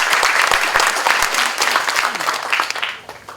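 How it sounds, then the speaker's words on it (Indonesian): A crowd of managers at a corporate charity event in Bandung breaks into loud applause, with sharp individual claps standing out from the dense clapping, which fades toward the close. "tepuk tangan untuk kita semua"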